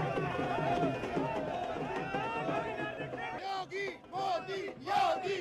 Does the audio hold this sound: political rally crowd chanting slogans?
yes